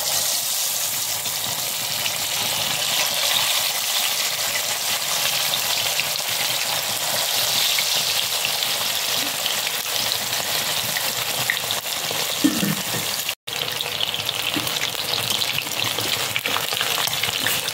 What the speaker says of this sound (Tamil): அதுக்கப்புறம் நம்ம வந்து பரட்டி வச்ச சிக்கன் எடுத்து பொரிச்சிடலாம்.